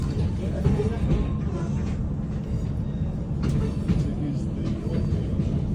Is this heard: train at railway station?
yes